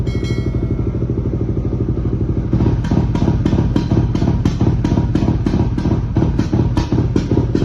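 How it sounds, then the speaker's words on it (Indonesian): Motorcycle exhaust tuned with an Aracer RC Mini X ECU for rumble idle: a loud, steady low throb that shifts after a few seconds into a rhythmic series of sharp popping backfires, close and continuous with no talking. "hasil settingan untuk backfire atau rumble idle untuk si ECU Eraser Mini X"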